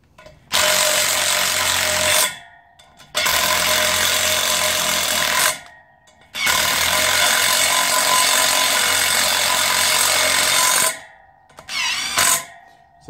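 Power tool, apparently an impact driver, working the thread-locked hub bolts of a farm bike in three long, loud, steady bursts separated by brief pauses, followed by a short ratcheting burst.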